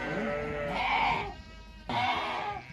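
Sheep from a flock of about four hundred on a herders' farm in Uzbekistan, bleating in two loud, drawn-out calls separated by a brief quieter gap, with low background noise.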